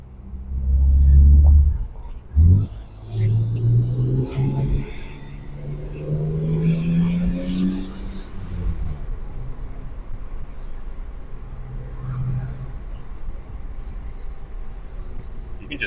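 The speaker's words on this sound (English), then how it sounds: "You can just hear this thing breathe when you open it up." A BMW E36 M3 with a new intake revs up in short, deep bursts before settling into a steady engine rumble. The sound is close and loud.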